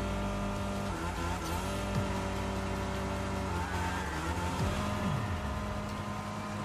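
Rocket car in the video game Fortnite Rocket Racing drifting, with a steady loud engine drone, shifting engine tones and tire squeal as it slides through turns, continuous and close throughout.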